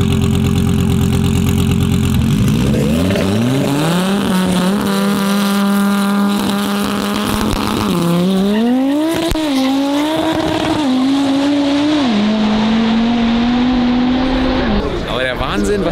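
Race cars accelerating at the Salzburgring, an Audi TTS with a five-cylinder engine against a twin-turbo Lamborghini: a loud, close engine roar rising in pitch through several gear shifts, with a snarling growl that fades slightly at the end.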